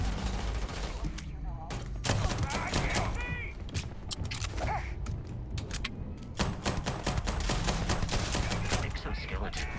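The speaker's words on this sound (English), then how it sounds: "Where are the gunshots?" Gunfire in the video game Starfield: rapid bursts and volleys of shots that crackle loudly and continuously, with short pauses, mixed with game effects and a voice talking over parts of the action.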